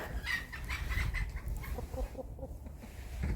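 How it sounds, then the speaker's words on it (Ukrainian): Several short, soft clucks from a small rooster close by, scattered over low outdoor rumble and background noise. "Півник маленький."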